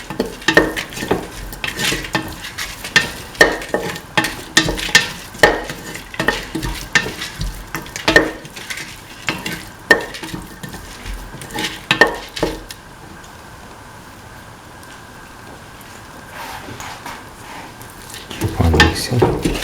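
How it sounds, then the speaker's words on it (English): Tomato pieces being stirred into a mint rice mixture in a pan, with repeated close clattering scrapes of a spoon and a soft sizzle underneath, a quieter pause in the middle, then stirring resumes. "the tomato pieces with the rest of the mixture. Thoroughly salt and mix."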